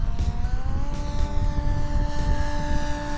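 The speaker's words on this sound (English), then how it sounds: "Low pass, full power." A 1/4 scale RC Fournier RF-4D model glider makes a low pass at full power, its propeller engine droning loud and steady with a slight pitch rise as it passes close.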